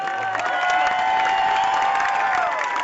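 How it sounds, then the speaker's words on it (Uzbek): Outdoor concert crowd in a park applauding and cheering to welcome Uzbekistan's National Symphony Orchestra, a dense continuous wash of clapping under a sustained tonal sound, loud and steady throughout. "Orkestrni qarsaklar bilan kutib olamiz."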